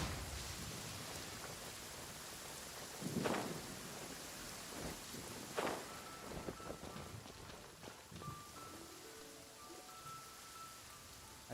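Rain and a thunderstorm in Genshin Impact, a steady wash of rainfall with two or three rumbling thunder rolls and a few soft game tones in the background.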